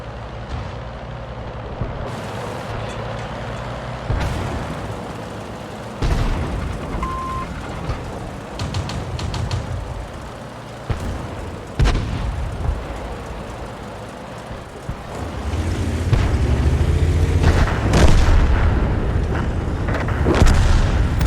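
Tank cannon fire in a tank battle video game, heavy booms standing out over a continuous rumble of engines and combat noise, with several sharp blasts spread through the stretch and a denser roar building toward the end.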